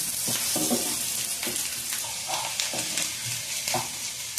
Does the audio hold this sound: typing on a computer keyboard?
no